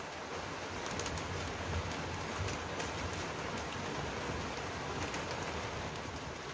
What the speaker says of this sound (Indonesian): Di sini lagi gerimis teman-teman, jadi harap maklum kalau ada suara rintik-rintik hujan.